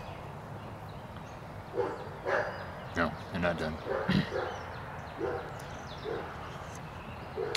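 Several dogs barking and yipping in short bursts, moderately near, while a person speaks briefly over them.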